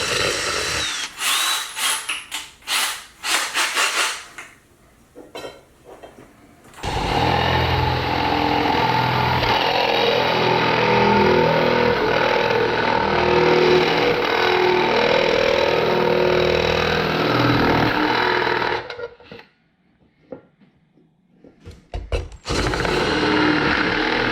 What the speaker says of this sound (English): So I'm going to start 2 pilot holes.